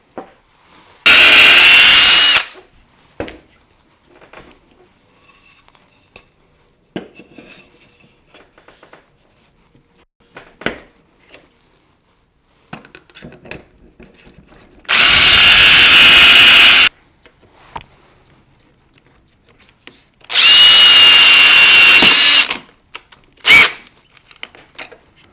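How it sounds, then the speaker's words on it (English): A handheld wood router cuts an inset into a wooden frame in a workshop, three loud, steady bursts of high whining motor noise of about two seconds each, separated by quiet stretches of faint handling clatter. "then I'll be able to route the final"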